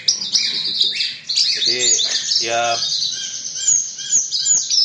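A branjangan bush lark, a songbird bred for competition, sings in bright, rapid chirps and trills that run almost continuously, close and fairly loud, with a voice briefly speaking over part of it.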